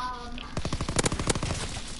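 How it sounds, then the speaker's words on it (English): Rapid bursts of gunfire in a World War II video game, a fast automatic rattle that starts after a quiet half second and runs loud and close to the end. "I got shot from behind"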